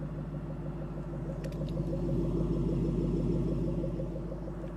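A 2014 Ford Mustang GT500 idles steadily, its low, even rumble holding close and loud throughout with no voices over it.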